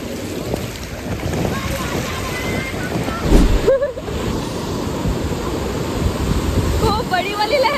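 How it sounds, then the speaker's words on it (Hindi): Big waves roll and crash at Puri beach, a continuous broad wash of surf with heavier breaks swelling in, while wind buffets the microphone throughout. "खूब बड़ी वाली लहर आ रही है।"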